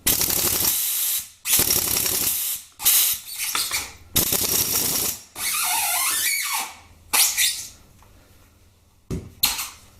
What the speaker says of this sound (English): So I just rattle it off with a ratchet gun